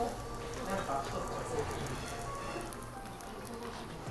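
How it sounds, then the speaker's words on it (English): Crispy rice crackling and popping on the hot bottom of a Korean hotpot in Seoul, a continuous fine patter of tiny snaps heard close, with a voice faintly present. "When you hear the rice snap, crackle, popping,"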